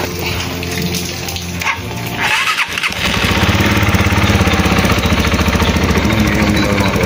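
A stock Rusi Flash Gen1 motorcycle fitted with a replacement racing ignition coil: a brief stutter, then the engine catches and settles into a loud, steady close-up idle with a rapid even pulse.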